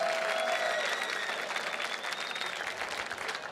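A gala audience in a large room, the Mountaineers annual gala, gives sustained, even applause, a dense wash of clapping with faint crowd murmur throughout.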